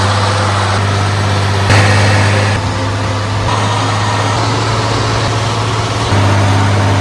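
A tractor engine runs steadily while mowing hay, a loud, constant low drone with a strong hum and no talk over it, its tone shifting slightly a few times.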